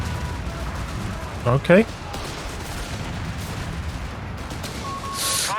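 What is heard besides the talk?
anti-tank rifle fire in video game Company of Heroes 3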